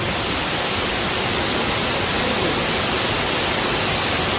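An underground waterfall in a cave with old preserved timbers, heard as a dense, unbroken roar of falling water that stays loud and even throughout, with no voices.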